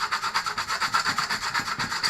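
A GPO 746 telephone casing is sanded by hand in quick, even back-and-forth strokes, a steady rhythmic rasping scrub heard up close with no talk.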